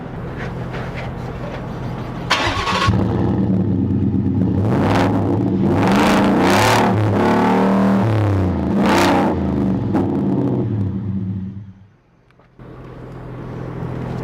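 Ford F-150 Roush V8 pickup truck engine revving hard and close, with a run of sharp throttle blips and sweeping rev swells over a deep rumble, then a brief drop before the idle resumes.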